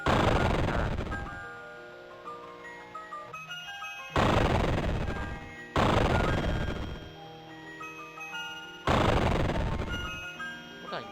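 Gunfire in a FNAF video game: three loud bursts arrive a couple of seconds apart, each a sharp hit followed by a decaying ringing tail, with tonal game sounds ringing underneath.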